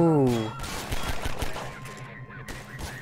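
Gunfire in Half-Life 2, a rapid burst of shots rattling for about two seconds after a short tonal sound, fairly close and loud, then thinning into scattered pops.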